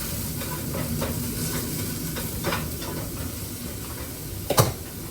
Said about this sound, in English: Let me stir my potatoes.